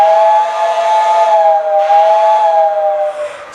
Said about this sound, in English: I hear that the train is just about ready to leave